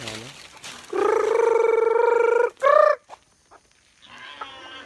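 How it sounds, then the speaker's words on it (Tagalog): Loud, drawn-out chicken calls ring out close by on a farm, one long cry followed by a shorter one, then quieter clucking near the end. "Pinapakain ko itong mga manok."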